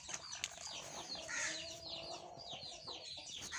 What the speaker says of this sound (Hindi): और एक और मुर्गी ये देखें हमने अंडों पे बिठाई हुई है